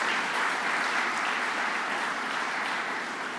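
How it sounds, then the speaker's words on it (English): An audience at a governor's public event applauding, a dense, steady wash of clapping from many hands that holds evenly and fades slightly at the end. "So let's give Idanique Miller a round of applause"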